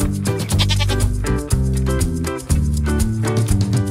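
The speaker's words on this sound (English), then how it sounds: "Goat." A goat bleats in several wavering calls over a busy musical backing in a children's farm-animal learning song.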